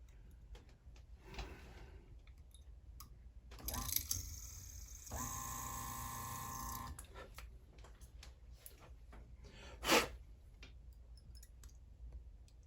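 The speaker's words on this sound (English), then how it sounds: "Now we have the holes drilled, as you can see." Holes being drilled into a cracked clarinet bell: a steady, whirring drill run of about two seconds stands out among scattered clicks and handling noises, with a sharp knock near the end.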